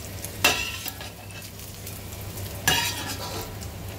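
Guanciale browning gently over low heat in a pan gives a steady soft sizzle, broken by two sharper stirring or turning clatters near the start and middle.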